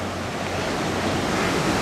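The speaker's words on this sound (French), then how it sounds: "Et voilà la plage." Waves washing onto a beach in Portugal, a continuous broad rushing surf with some wind noise, steady and fairly close, no voices.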